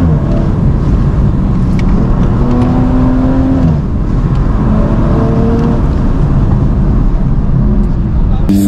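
A race car in a road rally around eastern Colombia revs hard and loud up close, its engine note rising and bouncing against the rev limiter with gear changes coming out of a corner, under continuous talk from the driver.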